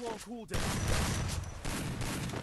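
Gunfire in a first-person shooter game: after a brief voice, a dense burst of rapid shots fills the rest of the clip, loud and continuous.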